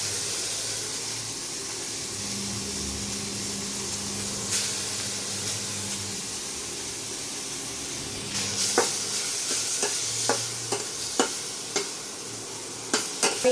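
Ground spice paste fries in hot oil with nigella seeds and dried chili for a banana blossom mash, giving a steady close sizzle and hiss, with sharp stirring clicks and scrapes picking up toward the end.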